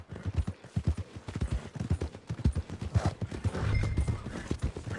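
In the Red Dead Redemption 2 video game, a horse's hooves clip-clop steadily and close by at a walking rhythm, with creaking tack and a brief snort, and no voices.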